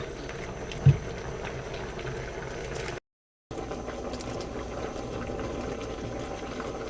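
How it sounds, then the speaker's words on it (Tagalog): A pot of coconut-milk fish stew with tilapia and pechay bubbles at a steady simmer, with a low continuous rumble, one brief thump early on, and a short gap of silence midway. "kumukulo na po siya"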